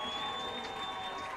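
Nettleton football fans in the stands cheer on their defense during a game against Batesville, a steady, dense wash of crowd noise with a few sustained tones running through it for about a second and a half.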